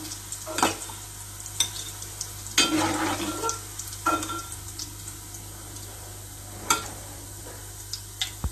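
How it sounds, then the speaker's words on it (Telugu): Cumin seeds, curry leaves and chopped onion pieces frying in the same oil used for meal maker chunks: an ongoing crackling sizzle broken by several sharp spatula scrapes and clicks, close by, with no voices. "అదే ఆయిల్లో కొంచెం జీలకర్ర, కొంచెం కరివేపాకు, కట్ చేసి పెట్టుకున్న ఉల్లిపాయ ముక్కలు వేసుకున్నాం"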